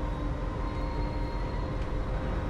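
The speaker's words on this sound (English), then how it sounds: "The acceleration of the British train might let it catch up." A British diesel train in a Transport Fever haulage race rumbles along steadily, a dense low-frequency drone with a faint whine on top, continuous and even throughout.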